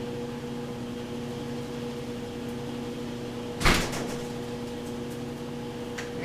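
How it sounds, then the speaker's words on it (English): A door closes once with a sharp thud partway through, set against a steady hum of a washing machine running in the background in a home. "Let me close that door because I can hear the washer going."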